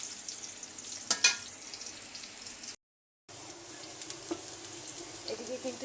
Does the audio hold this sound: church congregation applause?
no